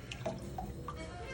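Water splashes and drips while a beer glass is rinsed, giving a few soft, quick trickling and dripping sounds over a quiet background.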